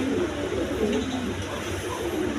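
A Rajgolla pigeon coos softly in a loft among other pigeons, low murmuring calls under a steady background hum.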